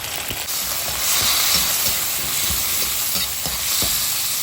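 Dried fish frying in a pan, a steady loud sizzle with crackling pops that continues without a break and without any talking over it.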